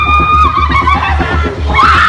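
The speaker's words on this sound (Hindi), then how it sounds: "जुल्म से चीख रही इस महिला की बेबसी को महसूस कीजिए" A woman being whipped by a Taliban fighter screams loudly, with sustained anguished cries and rhythmic impacts close by.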